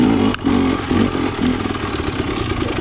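KTM 300 XC TPI two-stroke dirt bike with a low-compression head lugging in third gear on rocky ground, a loud, close, uneven chugging thrum with brief clatter and a short dip in revs.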